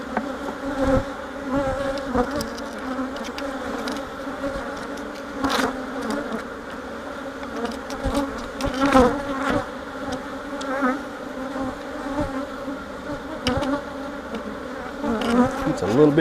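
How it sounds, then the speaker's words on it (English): Honey bees swarm loudly around an open hive while honey is being pulled, a dense agitated buzz that stays near and steady throughout, swelling in brief surges. "Oh, I've got these bees mad."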